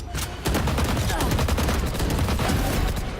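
Rapid overlapping gunshots in the video game Valorant during a team deathmatch, loud and sustained bursts of fire that fill the stretch with a constant crackle.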